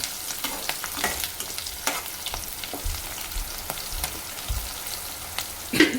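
Onions, green chilies and curry leaves fry in a pan for a tomato curry, giving a steady close sizzle with occasional stirring scrapes and a louder clatter near the end.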